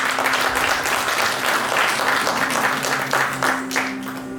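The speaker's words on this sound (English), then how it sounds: "give her a round of applause" A cultural program audience claps for a performer, continuous crowd clapping with some cheering over a low musical hum, easing off slightly toward the end.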